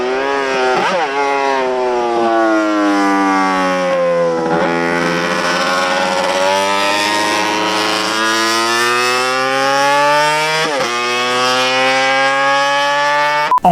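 A 34-horsepower motorcycle engine screaming up to 23,000 rpm, its piercing note climbing and dipping through several rev sweeps, loud and close throughout.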